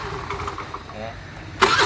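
A kick-started scooter engine that had been opened up for repairs and runs slightly rough catches at the end, a sudden loud burst of engine noise after quieter mechanical clatter and background voices.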